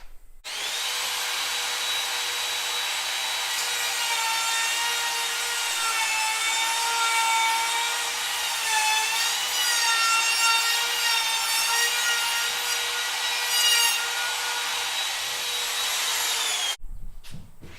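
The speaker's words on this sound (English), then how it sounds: "I got my router, and I'm gonna mortise that hinge" Router mortising a hinge recess into the edge of an old wooden front door being reworked into a pantry door, held in a small jig; a steady, loud high-pitched whine with cutting rasp runs continuously for about sixteen seconds, then cuts off.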